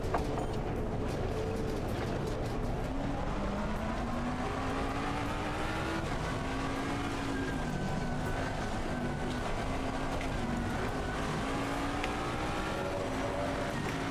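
A BMW race car in Assetto Corsa Competizione drones steadily at high revs, the engine pitch rising and falling through gear shifts, loud and continuous, with another car's engine audible nearby and no talk.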